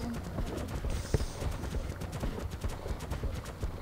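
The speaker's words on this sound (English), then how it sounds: "Oh, I haven't ridden a thylo in forever." Footsteps of a ridden thylacoleo, a marsupial lion, in the video game ARK, a rapid, hoof-like clopping rhythm close up and fairly loud, with faint game sounds behind.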